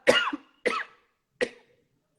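Three short, dry coughs in succession, close and fairly soft, with brief pauses between them.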